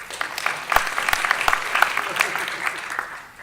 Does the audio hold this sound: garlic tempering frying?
no